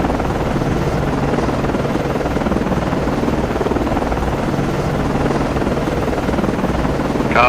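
A helicopter in the naval game Cold Waters lands on a ship, its rotor roar loud, steady and close throughout, thick with a rumbling low drone and no speech.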